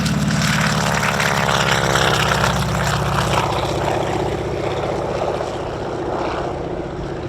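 An SNJ-2 Texan warbird passes by, its propeller engine droning loudly and steadily throughout, with a strong harmonic throb that eases slightly as the plane moves off.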